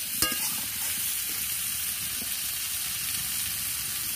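Soyabean and potato curry with turmeric sizzles in a wok as it is stirred, a steady close frying hiss with a few soft scrapes of the spoon.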